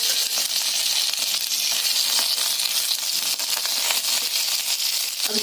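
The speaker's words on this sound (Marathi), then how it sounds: "अगदी मऊ होईपर्यंत हे असं भाजायचंय" Green chillies (capsicum-style mirchi) roasting in a little oil in a pan, giving a steady, close, continuous sizzle with fine crackling pops throughout, no voices.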